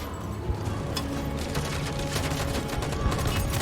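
Dense, overlapping gunfire bursts from the video game Detroit: Become Human, rapid volleys of shots rattling continuously at steady loudness with no break.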